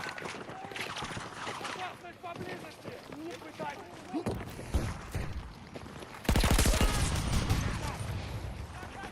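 Assault rifle fire in the Battlefield 2042 shooter game, dense bursts and rattling shots amid loud battlefield noise, with a louder, harsher stretch near the end.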